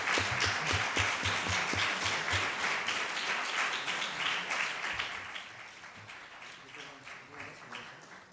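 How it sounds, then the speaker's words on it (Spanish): Audience applause at the close of a Catalan talk on climate anomalies, a dense wash of many hands clapping that holds steady, then gradually thins and fades toward the end. "i un aplaudiment"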